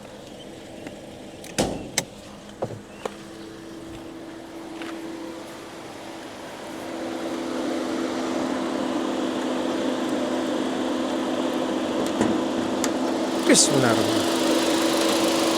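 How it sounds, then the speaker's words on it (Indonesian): A 2019 Toyota Voxy's engine idles as a steady low hum that rises in level partway through, heard close by, with someone speaking briefly at the start and a few knocks and clicks nearby. "Sekarang kita dengerin suara mesinnya."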